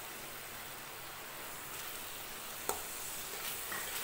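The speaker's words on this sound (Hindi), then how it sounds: "प्याज टमाटर के मसाले को 3-4 मिनट भून लेंगे" Onion-tomato masala with spices fries in a pan, a steady hissing sizzle throughout with a small pop or clink near the end, close and continuous.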